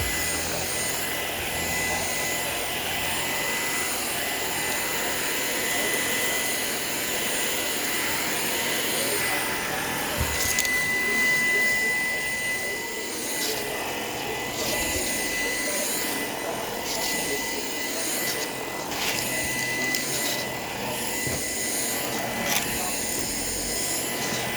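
Shark PowerDetect vacuum cleaner running indoors, a steady whining motor drone with a high tone that shifts as it moves, while a person talks over it.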